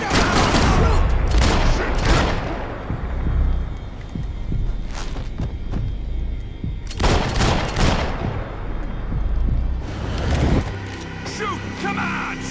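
Gunfire from a shootout in the video game Max Payne 3: dense, loud bursts of rapid shots and fusillades, with heavy volleys around the start and again midway, separated by quieter stretches of scattered shots and ambient noise.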